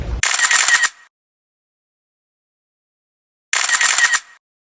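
Camera shutter firing twice, each a short sharp mechanical click-burst about three seconds apart, close and clear against silence.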